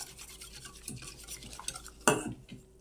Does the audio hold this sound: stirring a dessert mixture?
yes